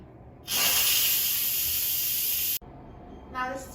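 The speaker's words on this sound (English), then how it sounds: "let's quick release the remaining steam" Instant Pot pressure cooker quick-releasing its remaining steam after cooking pork and sauerkraut: a loud, steady broadband hiss bursts on, holds for about two seconds and cuts off abruptly, followed by a fainter softer hiss.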